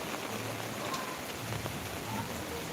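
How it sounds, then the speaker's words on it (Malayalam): Steady rain falling, a dense, even patter on surfaces with no voices, continuous and moderately loud throughout. "അത്യാവശ്യം മഴ പെയ്യുന്നുണ്ട്"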